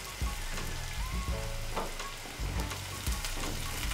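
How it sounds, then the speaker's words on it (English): Green onions and shallots sauté in a pan, giving a steady close sizzle with soft scraping and stirring knocks throughout. "saute your aromatics until your shallots are going to be translucent"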